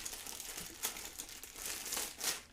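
A knife slits into the packaging of a Madcatz Fight Stick Alpha arcade stick, giving faint crinkling and scraping bursts of plastic and cardboard in quick irregular strokes, close and quiet.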